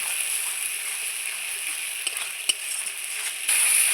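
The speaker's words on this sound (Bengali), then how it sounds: "পেঁয়াজ বাটাটাও দিয়ে এর মধ্যে খুব সুন্দর করে আমি ভেজে নেব" Onion paste fries in hot oil in a pan for a large fish kalia, giving a steady close bubbling sizzle that holds throughout and grows slightly louder near the end.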